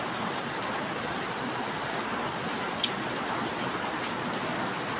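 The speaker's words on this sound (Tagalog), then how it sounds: "Maulan, malakas yung ulan." Steady, dense heavy rainfall with thunder outside a house pours down in a continuous hiss, moderately loud, with no pauses or voices.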